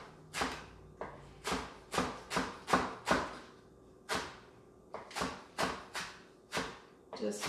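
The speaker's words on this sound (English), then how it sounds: "I'm going to chop up the rest of my green onion" Knife chopping green onion on a cutting board for a vegetable ferment, about a dozen crisp, evenly spaced chops in two bursts, close and clear.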